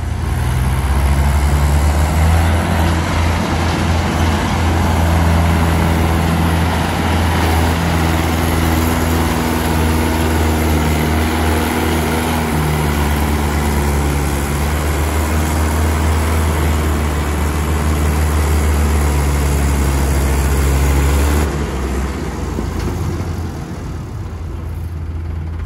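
A Mahindra 585 tractor engine labours loud and close while pulling a loaded trolley, a steady deep diesel drone with a throbbing low rumble held for about twenty seconds before easing slightly at the end.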